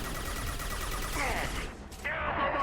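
Sci-fi gunfire in Mass Effect on Omega, steady rattling bursts of shots under a busy combat mix with voices mixed in, moderately quiet.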